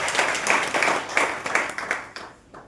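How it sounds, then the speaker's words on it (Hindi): A small audience at a B.Ed college session claps for themselves, a brief burst of scattered handclaps at moderate distance that tapers off after about two seconds. "ताली दीजिए अपने लिए थोड़ा सा सर आप लोग।"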